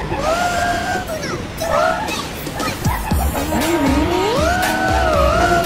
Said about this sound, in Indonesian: Suara gubuk, suara turbo, suara segala macam ada di truk ini guys.